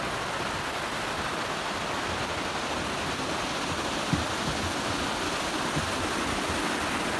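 A considerable river flows near Burney Falls in a steady, broadband rushing roar that stays even and close throughout, with no voices.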